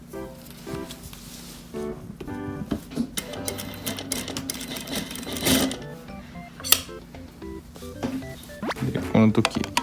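Sewing machine stitching the waist of a pleated school uniform skirt, a steady close mechanical whir with rhythmic needle chatter, running continuously with brief pauses while a person talks.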